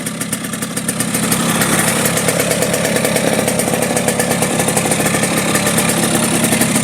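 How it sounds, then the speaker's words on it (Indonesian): An RX 100 motorcycle engine runs at a steady idle close by, a loud, even buzzing two-stroke putter with a rapid regular pulse that holds without a break. "Kita cek sound kan. Mesinnya lumayan halus, RPM-nya masih jalan mas ini."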